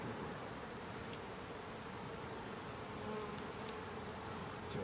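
Honey bees buzz during a beehive inspection: a dense, steady swarm hum at close range that holds for the whole stretch, with no talking over it.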